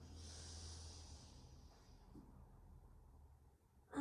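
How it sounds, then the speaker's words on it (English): A slow, deep inhale during a vinyasa yoga flow, a soft airy breath heard close but quietly, fading into near silence before a brief louder sound at the very end. "Inhale."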